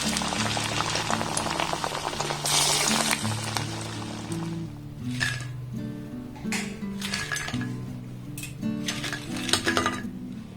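Sabudana pakoras deep frying in a pan of oil, a bubbling crackle with intermittent metal clinks and scraping from a slotted spoon, moderately loud and near.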